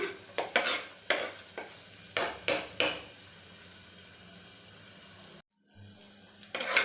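Ginger garlic paste frying in oil in a pan on the stove, a soft steady sizzle broken by close, sharp scrapes and clinks of a spoon stirring against the metal, with a brief pause near the end and no talk.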